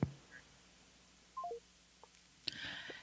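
Telephone keypad tones beep a few times in a quiet room, short separated dial tones with a click at the start and a brief noisy burst near the end.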